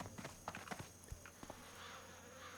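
Horse hooves clip-clop in World of Warcraft, a quick series of light, close hoofbeats over a faint steady background hum.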